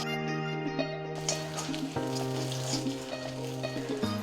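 Urad dal, onion and mustard seeds roasting in hot oil for dosa, a continuous bright sizzle and crackle close by with faint popping, no voices.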